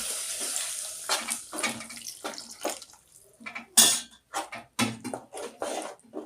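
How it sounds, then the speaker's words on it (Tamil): Water splashes into a metal pot close by, mixed with clinks of utensils and cookware in short irregular bursts. "தண்ணி விட்டு கொஞ்சம் கொதிக்க விடுவோம்"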